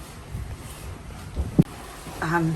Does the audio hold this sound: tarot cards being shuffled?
no